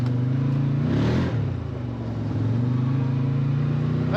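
A 2025 CF Moto Uforce 800 XL four-seat UTV drives through snow, its engine a steady mid-pitched drone with a slight dip and recovery, close and constant throughout.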